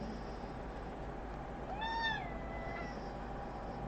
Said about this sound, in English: we don't meow at Mama like that